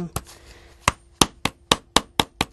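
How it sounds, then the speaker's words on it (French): Sharp hammer blows drive and rivet a nail into a shoemaker's last, eight crisp impacts coming quicker and steadier after an opening pair, each ringing briefly with a metallic edge in a quiet workshop. "Et le dernier coup de marteau nous montre que la pointe s'est bien rivée, puisqu'elle s'écrase légèrement et elle bloque la matière."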